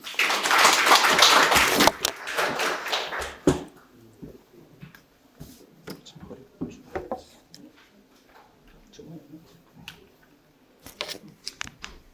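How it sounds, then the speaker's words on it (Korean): An audience at a Korean civil service exam information session applauds in a dense burst for a few seconds, then the clapping thins into scattered claps and light taps. "박수 한번 크게 한번"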